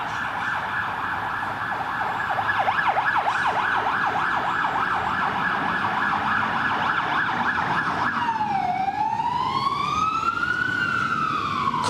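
An ambulance siren sounding loudly and continuously, first rapid yelping cycles and then a slower rising-and-falling wail as the emergency vehicle goes past, filling the whole stretch with no voices over it.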